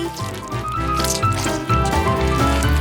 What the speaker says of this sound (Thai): เราจะราดลงไปที่เค้ก ไปแล้ว ราดลงไปเลย